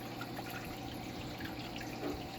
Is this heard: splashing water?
yes